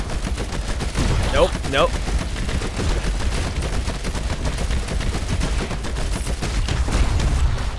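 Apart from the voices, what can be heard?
gunshots in a space shooter video game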